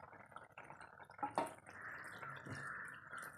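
Thick first coconut milk is poured into a cooking pan, giving a quiet, soft liquid pour with a brief splash near the start, then a gentle, steady trickle.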